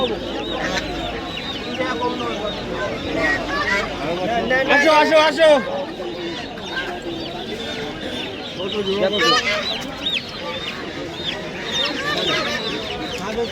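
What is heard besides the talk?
chickens clucking at poultry market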